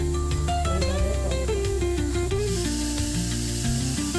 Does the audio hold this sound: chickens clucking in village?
no